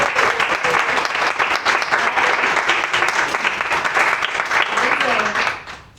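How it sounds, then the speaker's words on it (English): An audience at an evening exhibition event at Expo 2020 in Dubai applauds a speaker with loud, sustained clapping, even and continuous for several seconds before fading out quickly at the end. "Can we please have a round of applause for her?"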